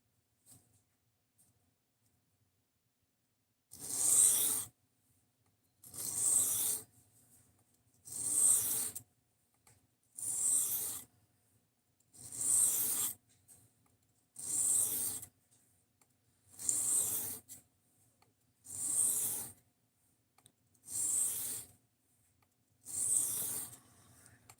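A knife is pushed across a sharpening stone in ten evenly spaced, distinct scraping strokes after a quiet start, each a close, gritty swipe separated by brief silence.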